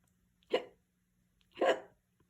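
A voice imitating a skeleton's hiccup, two short breathy hiccup sounds about a second apart, close and fairly quiet.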